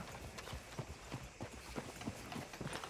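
Rapid clip-clop of horse hooves trotting steadily on hard ground in the video game Red Dead Redemption 2, moderately quiet, with a game-like continuous background.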